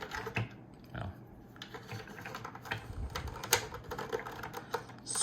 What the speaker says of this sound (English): you really have to kind of bend his legs a little bit and squish him in there to get him in there